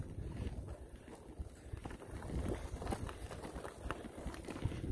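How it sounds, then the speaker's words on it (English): Roughly 10 mph headwind buffeting a cyclist's microphone on a cool 35°F day along the C&O route, heard as low, gusty rumbling that swells and eases continuously with nothing else in front. "About a 10 mile per hour headwind"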